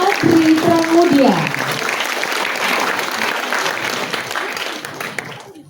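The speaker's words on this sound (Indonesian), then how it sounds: "Kita berikan tepuk tangan untuk Adri Pramudia." A concert audience at an orchestra's anniversary show applauds a composer, dense clapping that starts over a brief voice and then carries on steadily before tapering off at the close.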